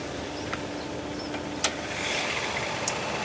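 Toyota GR Yaris 1.6 turbo three-cylinder engine running steadily, a low even hum heard close up with a few faint clicks and taps, no talking.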